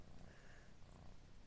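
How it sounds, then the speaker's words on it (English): A cat purring steadily and softly up close, a continuous low rumbling drone with no voices. "She's just a purring away."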